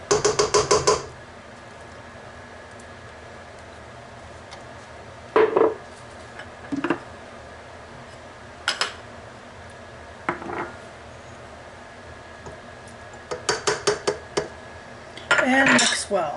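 Egg, ricotta and extracts for Italian Christmas cookies are mixed in a bowl, heard as short bursts of rapid clinking and scraping of a utensil against the bowl, separated by quiet stretches.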